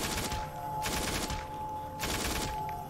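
Rapid bursts of automatic gunfire in Call of Duty Zombies played in VR, dense fusillades in two or three loud waves over a continuous layer of game noise.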